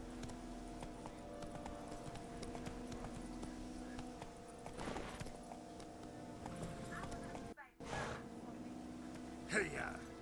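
Hoofbeats of a horse galloping in The Witcher 3 video game, a steady clip-clop rhythm under a constant backdrop of game sound, with a brief dropout and a short sharp accent near the end.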